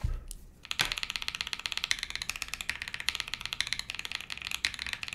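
Rapid clacky keystrokes on a mechanical keyboard's arrow keys, an even rhythm of crisp taps close by after a couple of initial clicks.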